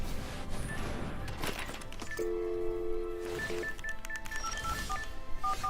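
Telephone keypad tones beep in a quick sequence of dialed digits over a busy background of game audio, the steady dual tones standing out clearly before a few shorter beeps follow.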